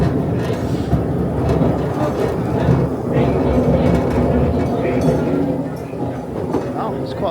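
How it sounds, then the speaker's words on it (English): An amusement park train ride at Efteling rumbles and clatters steadily with faint metallic clinks. Riders talk over the rolling noise throughout. "That was a fun little train ride."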